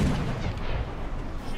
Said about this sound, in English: I'm at least hitting them almost every full broadside